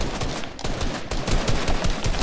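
Video game gunfire crackles in rapid, uneven bursts of machine-gun shots, loud and close, with no talking.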